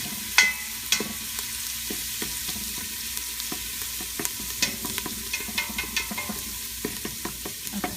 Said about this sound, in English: the onions are sauteing and they're starting to get soft now